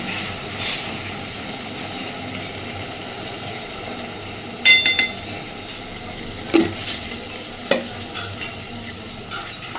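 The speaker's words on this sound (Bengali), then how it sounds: "এই সময় আমি এর মধ্যে দিয়ে দিচ্ছি 1 চামচ গুঁড়ো দুধ।" Powdered milk is stirred into a ridge gourd curry sizzling in a pan, with a continuous close frying hiss and a few sharp spoon clinks against the pan, with no speech.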